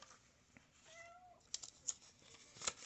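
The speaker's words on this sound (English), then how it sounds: "if you hear a little meowing in the background" A pet cat meows softly in the background of a quiet indoor room, giving a short, faint rising-and-falling call followed by a few small clicks and knocks nearby.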